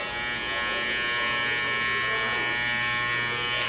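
Electric hair clippers run with a steady, continuous buzz, close and even, holding the same drone for the whole stretch with no voices over it.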